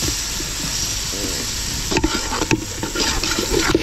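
Red chili pepper sizzling in a pot over a strong wood fire outdoors while duck rice is cooked, a steady close crackling fry with stirring scrapes throughout.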